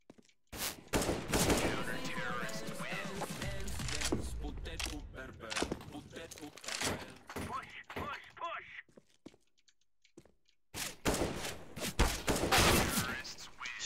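Rapid bursts of video game rifle, pistol and AWP gunfire crackle across most of the clip during a 1v1 match, with brief pauses and a quieter stretch before firing resumes loudly near the end.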